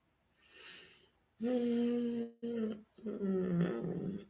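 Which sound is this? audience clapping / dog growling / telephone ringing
dog growling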